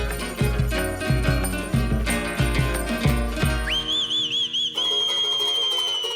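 A bright melodic whistle rises over strummed guitar and percussion in a song, entering partway through and holding sustained, wavering notes as the rhythm thins out.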